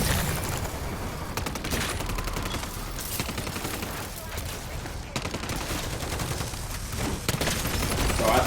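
Gunfire aimed at zombies in MW3 Zombies, steady overlapping shots and rattling bursts from several weapons, loud and continuous amid chaotic game sounds, with faint voices underneath.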